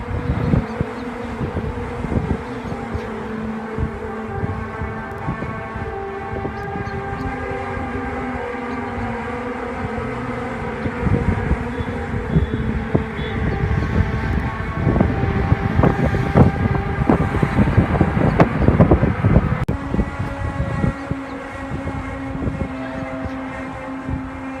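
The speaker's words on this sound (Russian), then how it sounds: "Как объяснить эти странные трубные звуки, доносящиеся с небес?" Strange trumpet-like tones in the sky over Jerusalem, long sustained droning blasts that hold steady pitches for many seconds over a bed of wind-like rushing noise, swelling louder toward the end.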